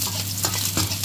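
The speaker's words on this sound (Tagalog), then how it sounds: "Isasabay na ang ating bawang. Papulahin siya ng maigi guys." Garlic frying in olive oil in a pan: steady close sizzling with a couple of soft stirring scrapes over it, no talk.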